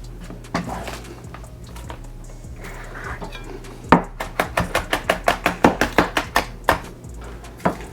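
A knife slices onion with the grain on a cutting board, first a few scattered cuts, then a rapid, even run of crisp, close chops knocking against the board.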